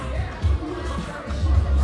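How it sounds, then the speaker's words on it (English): A packed crowd murmurs and stirs at an outdoor boxing fight night during a festival, a steady, dense roar of many voices with low rumbling swells and no distinct cheers. "We have a very packed crowd tonight."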